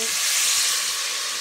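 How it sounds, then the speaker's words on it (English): Cow foot frying gently in olive oil over very low heat gives a soft, steady sizzle that stays even and close throughout. "I would sort of fry it very, very gently so that we can get the flavor from the cow food"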